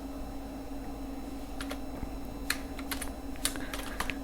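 Someone types code on a computer keyboard, with faint, irregular key clicks in short bursts over a steady low hum, and no talking.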